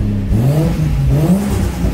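A Toyota 1JZ engine is blipped with short throttle taps, its loud, close rev rising and falling unevenly with a coughing, spluttering roughness, and no voices.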